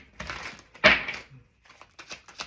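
Tarot cards are shuffled by hand in quick papery riffles and slides, with one sharper, louder flurry near the start and softer ticking shuffles afterward, close by and with no talk.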